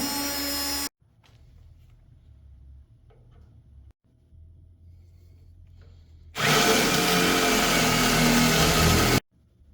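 A power drill whirs briefly, then faint clicks and handling noises follow before the drill runs again loudly and steadily for a few seconds, boring a small pilot hole, and stops.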